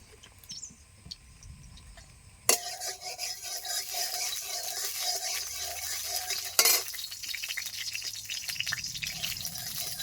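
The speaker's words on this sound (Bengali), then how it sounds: "তেল গরম হয়ে গেছে, দিয়ে দিচ্ছি আলুগুলি" Potatoes drop into hot mustard oil in a kadai with a sudden loud burst of sizzling. The frying then crackles steadily and close, with a second sharp clatter partway through.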